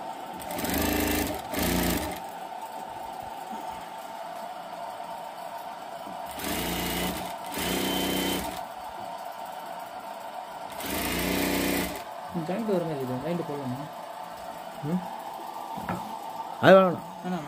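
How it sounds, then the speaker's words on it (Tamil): A sewing machine stitches umbrella lining fabric in short bursts, its rapid, buzzing run starting and stopping several times between quieter pauses, while a person talks over the gaps. "இப்போ லைனிங் துணியை தனியாக தைக்கிறோம்."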